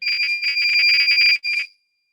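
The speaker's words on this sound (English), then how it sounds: "Obviously buzzer generates sound." An LED buzzer alarm on an Internet of Things board, switched on by a button, gives a loud shrill electronic tone in rapid pulsing bursts for about a second and a half, then stops abruptly into silence.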